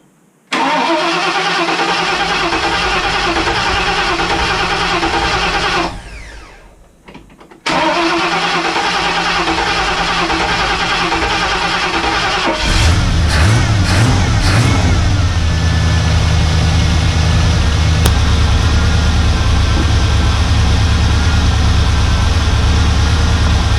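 A Ford Falcon XC wagon's 351 V8, fitted with a new 600 CFM carburettor, cranks and fires, then settles into a loud, steady run with a brief pause before restarting and building into a heavier, rumbling rev.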